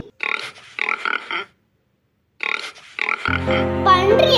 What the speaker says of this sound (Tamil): பிக் பன்றி.